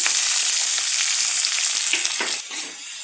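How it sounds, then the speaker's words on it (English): Three large sliced onions sauté in a pan with black peppercorns and chopped green chilies for egg curry, producing a loud, bright sizzle with occasional stirring scrapes. "I'm going to saute them till they get cooked."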